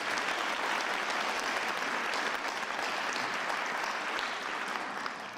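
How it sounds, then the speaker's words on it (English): Sustained applause from the audience at the swearing-in of a Philadelphia police commissioner, steady dense clapping filling the whole stretch without a break. "Give them all a round of applause"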